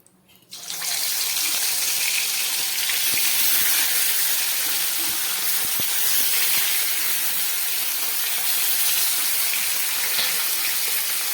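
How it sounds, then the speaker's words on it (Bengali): Live fish coated in salt and turmeric fry in a pan with a loud, steady hiss that starts abruptly and holds, without a break, close by. "এবার মাছগুলোকে আমি ভেজে নিচ্ছি"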